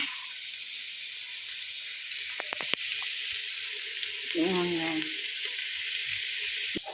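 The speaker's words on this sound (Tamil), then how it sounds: "இது வந்து ப்ரௌனிஷ் ஆகணும் அது வரை நம்ம வந்து வதக்கணும் ஸோ அதை அப்படியே வதங்கிக்கிட்டே இருக்கட்டும்" Onions sauté in a pan for mutton biryani, with a continuous close sizzle and a few soft clatters; a brief voice sounds partway through.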